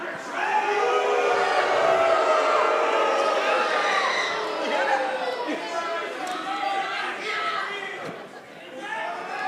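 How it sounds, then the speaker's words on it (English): A large wrestling event crowd roars with sustained booing and jeering, dense and loud throughout before easing slightly near the end, with voices mixed into the din. "thankfully it's a soothing boos of the crowd who actually hate Frank the Clown right alongside with us"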